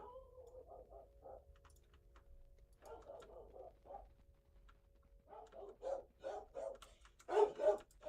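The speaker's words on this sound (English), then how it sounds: "That's my dog going crazy." A dog barks excitedly indoors in scattered bursts, quiet at first and growing louder and more rapid toward the end, heard faintly in the distance.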